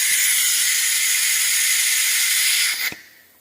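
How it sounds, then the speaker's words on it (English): An air compressor pulls vacuum on the coolant system of a 2000 Ferrari 360 Challenge race car, giving a loud steady hiss that cuts off abruptly near the end, leaving quiet. "Sorry about the air compressor, but it's necessary to pull the vacuum."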